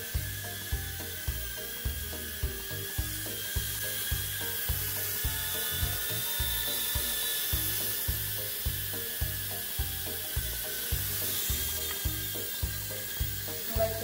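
Holy Stone HS210 sub-$20 mini drone flying smoothly on low speed with altitude hold, a steady high-pitched rotor whine over a rapid, regular low pulsing throughout, fairly close and continuous with no talk.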